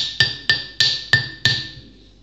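A Yakut knife chops into frozen meat with five sharp, evenly spaced strikes, each a crisp impact with a ringing metallic tail, close and fairly loud, with no talking.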